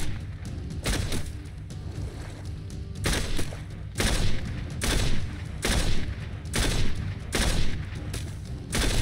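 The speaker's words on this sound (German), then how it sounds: "So oft geschossen und hat ihn nicht getroffen, Alter." Repeated gunfire in Crysis Warhead: loud bursts of shots and booming impacts recur every second or so in an uneven rhythm over a constant battle din, with no speech.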